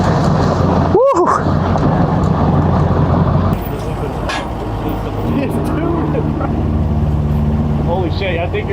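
A diesel truck tows a heavy load at a racing event, its engine drone steady and loud throughout, with a shift in pitch midway and people talking and shouting over it.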